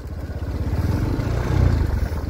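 Bajaj Pulsar motorcycle riding over a rough off-road path, its engine throbbing in a steady low pulse close by, with faint clatter over the uneven ground.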